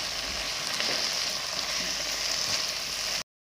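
Rice and spices fry in a pan for chicken and vegetable fried rice, with a dense, loud, continuous sizzle and faint stirring scrapes underneath, close up, before the sound cuts off abruptly.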